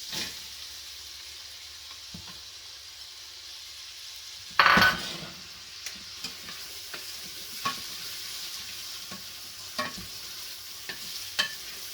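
Onions hitting a hot oiled pan, with a sudden loud burst of sizzle a few seconds in, then a steady frying hiss and scattered light stirring clicks from a spatula.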